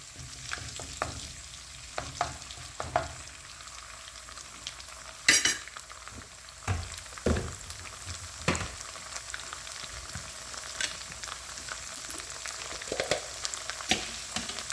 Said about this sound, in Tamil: இதை நாம் நல்லா ஸ்டிர் கொடுத்துடலாம். நல்லா ஃப்ரை ஆகட்டும்.